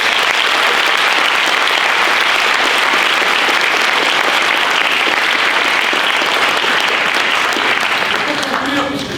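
Sustained audience applause at a university eloquence contest final, a dense, steady wash of clapping from a large crowd lasting the full span and fading slightly at the end.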